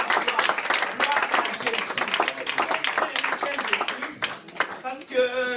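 A church congregation bursts into loud, sustained applause and rhythmic clapping with cheering voices mixed in, the crowd close and lively before it tapers into a sung or shouted voice at the end.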